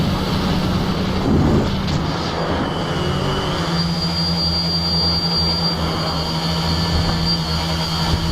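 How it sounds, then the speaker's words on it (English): A tri-copter drone's motors throttled up hard in flight, giving a loud, steady whirring drone with a sustained high whine, close and continuous throughout. "when I throttle it up real hard, I get a lot of vibration"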